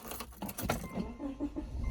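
Key turned to shut off a 2005 Subaru Outback, with light keys jangling and faint clicks close by in a quiet car interior, followed by a low hum.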